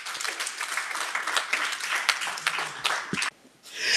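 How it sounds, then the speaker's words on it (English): Applause for the Honourable Minister at a Botswana graduation ceremony: dense, steady clapping from a crowd for about three seconds, then an abrupt drop before it swells briefly again. "Thank you so much, with another round of applause."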